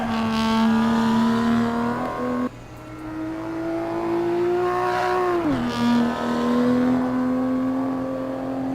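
Simulated BMW 235i engine drone in the RaceRoom racing game, heard from outside the car, with strong harmonic tones, climbing in pitch, dropping sharply at a gear change, then revving up again steadily.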